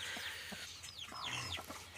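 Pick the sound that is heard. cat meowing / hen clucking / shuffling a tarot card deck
hen clucking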